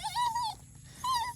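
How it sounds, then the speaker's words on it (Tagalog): An excited pet dog named Kikay on a farm whimpers in two short, high, whiny bursts separated by a brief pause, close and fairly faint, with no talking. "Tuwang-tuwa yung alaga kong aso"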